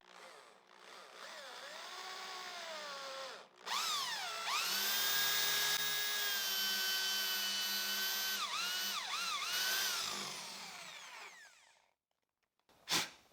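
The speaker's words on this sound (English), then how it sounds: "I'll drill the hole using a handheld drill and this Forstner bit of 25 millimeters." A handheld power drill with a 25 mm Forstner bit spins up and bores into wood, its whine rising and dipping under load for several seconds before winding down.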